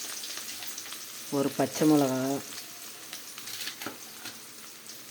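Mustard seeds and onions fry in hot oil in a kadai, with a constant close sizzle and crackle running throughout. A person speaks briefly over the frying.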